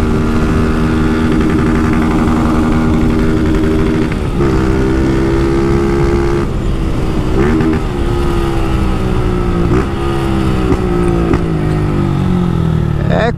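A motorcycle engine being broken in roars loudly and continuously, pitch climbing then dropping with each gear change as it accelerates through the gears, with wind noise.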